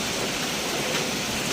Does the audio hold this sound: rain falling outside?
yes